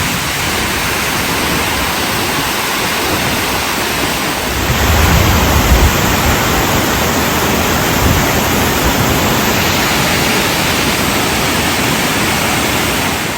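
A roaring 87-meter waterfall, the highest in Croatia, pours in a dense, steady rush that fills the whole clip, swelling slightly louder about midway as spray and churning water surge close by.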